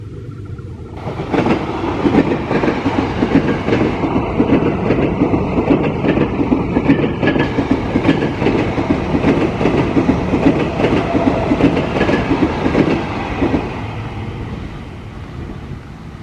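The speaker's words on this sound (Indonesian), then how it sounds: "Kereta melintasi bawah jembatan." A commuter train near Cawang station passes beneath a bridge with a loud, continuous rumble and rhythmic clickety-clack of wagons that holds steady for a long stretch before easing off.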